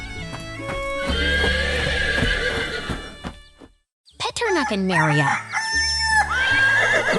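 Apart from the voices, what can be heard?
horses neighing in an animation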